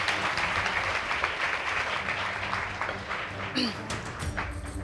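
An audience at a school debate contest gives a round of applause, a sustained patter of many hands with talk faintly underneath and a few louder thumps toward the end.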